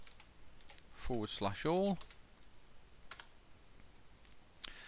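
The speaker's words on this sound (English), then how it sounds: "if we go to a command prompt and type" Fingers tap a few keys on a computer keyboard at a command prompt on a Windows 8 client workstation, faint sparse clicks around a short spoken phrase.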